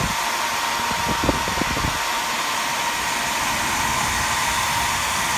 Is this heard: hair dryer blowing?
yes